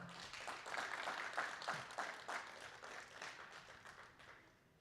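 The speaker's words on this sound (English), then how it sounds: "Can we clap for them one more time?" An audience at a Three Minute Thesis competition claps together for the participants, a dense, moderately distant patter of many hands that slowly fades out.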